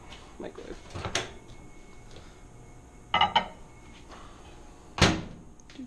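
A microwave door is handled in a home kitchen while making tres leches, giving sharp latch clicks and thuds, one near the start, a cluster midway and a firm clunk near the end, amid faint background sounds.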